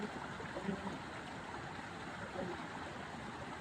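Steady rush of flowing water from the Tinipak River stream, a continuous broadband wash with faint burbles, moderately distant and unbroken, with no talk.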